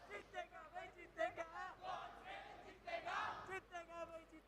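An arena crowd at a Valorant esports grand final chants in rising and falling rhythmic waves, loud and energetic, with many voices blending together.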